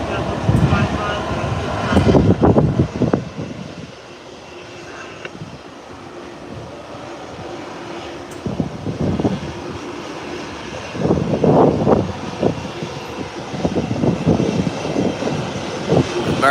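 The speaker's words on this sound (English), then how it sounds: "American is taxiing right here and it's coming to park right in this area" An American Airlines airliner taxis toward its parking area with a steady jet engine drone that runs under frequent nearby talk and rises and falls a little over time.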